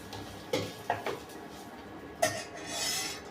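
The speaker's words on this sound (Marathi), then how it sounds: "कांदा छान परतून घेऊ।" Onion being sautéed in a pan while cooking a matki usal, with a few clinks and scrapes of a spatula against the pan over a faint background.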